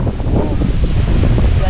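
Strong wind buffets and roars close to the microphone outdoors as a storm approaches, a loud continuous rushing rumble with no pauses.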